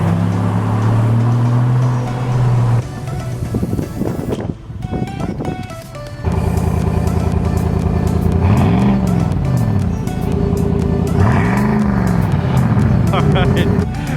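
A lifted truck in sport mode accelerates hard, its engine roaring and rising in pitch through several surges, loud and close, with people talking over it.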